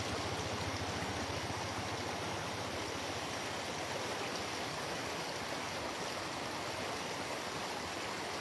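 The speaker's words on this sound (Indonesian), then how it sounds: "ini air anak sungai cukup deras." A fast-flowing small stream at Saung Lumbung in Desa Jalaksana, Kuningan, rushes continuously and evenly, a dense, close, steady wash of water with no talk.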